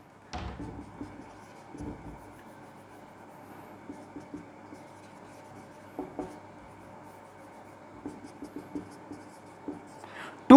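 Physics equations are written out by hand, with faint, close scratching strokes in short scattered bursts over a quiet background hum, ending in a sudden louder knock.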